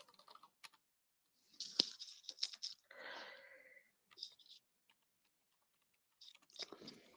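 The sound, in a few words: typing on a computer keyboard to write in chat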